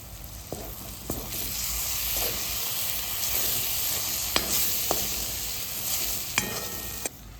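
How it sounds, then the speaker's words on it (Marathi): Garlic paste is stirred into a frying river mussel dish, producing a continuous soft sizzle broken by sharp spoon taps and scrapes on the pan at irregular intervals. "आपण आला लसूण पेस्ट सुद्धा त्याच्यामध्ये मिक्स करतोय"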